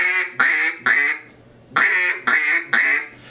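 A duck call blows the three-note 'three blind mice' cadence twice, each group of three sharp, raspy quacks with a short pause between the sets, loud and close with no talking.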